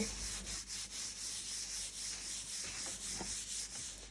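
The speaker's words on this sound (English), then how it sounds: "We're just sanding it nice and smooth like so." Soft, steady rubbing of fine sandpaper on wood, continuous gentle strokes close by, quiet and without speech.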